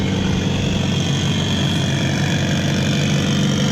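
A four-cylinder Evo engine in a tubular off-road car with a full fiberglass body idles steadily, a loud, close, continuous rumble with a constant vibrating texture.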